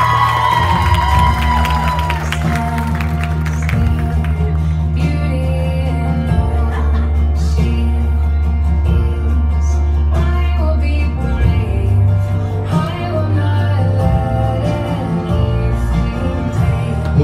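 Cheering and whooping from the crowd at a quinceañera in Azusa, California, loud and sustained over pumping dance music with a strong bass beat, voices shouting throughout.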